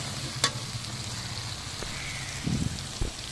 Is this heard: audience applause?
no